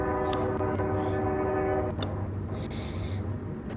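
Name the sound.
train horn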